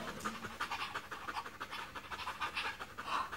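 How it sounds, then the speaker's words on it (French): A dog pants quickly and steadily at close range, with rhythmic breathy puffs running through the whole stretch and no voices over it. "Bah, c'est un chien."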